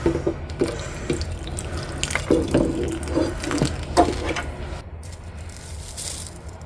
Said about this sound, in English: Let me wash this off a little bit.